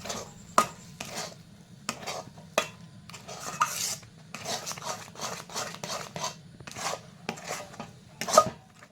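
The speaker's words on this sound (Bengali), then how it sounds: "এইভাবে কিন্তু সমানে নাড়তে হবে না হলে কড়াইয়ের নিচে লেগে যেতে পারে" Milk-powder dough being stirred with ghee in a kadai: repeated scraping strokes of a spoon against the metal pan with sharp clinks, at an uneven steady pace, fairly quiet and close.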